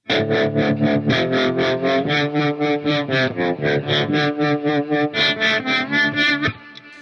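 Heavily processed electric guitar through a Gecko Pedals O Face modulated overdrive pedal plays a steady rhythmic riff, gritty overdrive with a swirling, shimmering modulation, loud and continuous before cutting off near the end.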